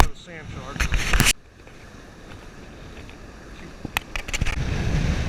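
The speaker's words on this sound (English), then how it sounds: "the wind's really blowing 30 miles probably in my face" Strong wind of about 30 mph blowing on a beach during surf casting, heavy buffeting rumble against the microphone with bursts of loud gusts at the start and near the end.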